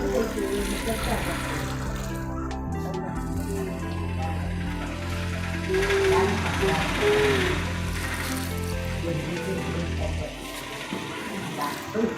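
Water runs and splashes steadily for several seconds, a continuous gushing pour that thins out near the end, with voices faintly in the background.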